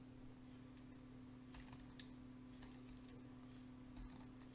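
Quiet, scattered clicks of typing on a computer keyboard, with a few short bursts of keystrokes over a steady low electrical hum.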